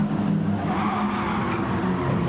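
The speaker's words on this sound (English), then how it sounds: "We hear those tires like screaming." Race car tires squeal during racing, a sustained harsh tonal screech layered over loud engine noise and heard close throughout.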